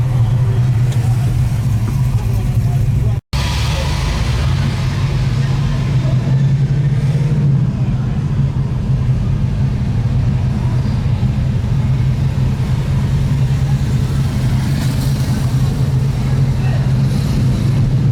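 Ford GTHO Phase 3 tribute car with a Detroit locker, driven on the road: a steady low engine drone runs throughout with a brief dropout early on, and a faint voice sits under the cabin noise.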